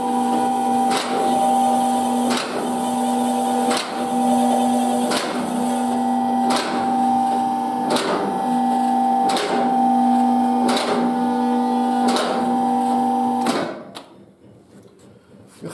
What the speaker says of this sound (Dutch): Het geluid wat je nu hoort, dat is de beveiliging.